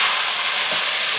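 Broad beans drop into a hot Telugu-style tempering and set off a loud, steady hiss that fills the short moment with no break.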